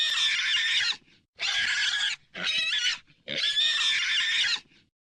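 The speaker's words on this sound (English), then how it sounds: "she then hears a loud sound of a squealing pig outside her home." A pig squeals loudly outside a house in four long, piercing bursts separated by brief pauses, close and harsh, with nothing else heard.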